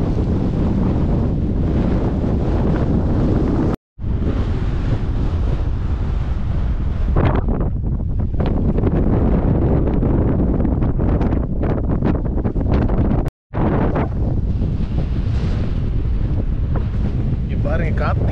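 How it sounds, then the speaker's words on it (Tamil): Strong wind roars across the Dhanushkodi seashore, a loud continuous buffeting rush hammering the microphone with faint surf underneath, broken by two brief cuts and no clear talk. "பாருங்க காற்று எப்படி வீசுது பாருங்க"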